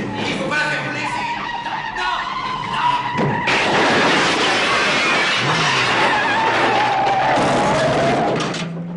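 Car engine revving and driving in the 1985 American action film Commando, loud and close, with tire squeal, skidding and a sudden surge of engine roar midway, under overlapping speech and scattered film sounds.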